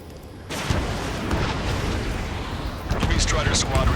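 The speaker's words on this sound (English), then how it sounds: "Gunfire and the roar of jets echoing through the streets." Dense rumbling booms and bursts of gunfire-like crackle from Ace Combat 7: Skies Unknown, with jets roaring, continuous and loud, with a heavier surge of blasts toward the end.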